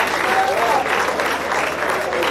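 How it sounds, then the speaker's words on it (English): A ceremony audience at an engineering graduate-membership induction in Nigeria claps together, a loud, steady wash of applause that lasts the whole stretch and swells slightly in the middle. "can we give him a round of applause, please?"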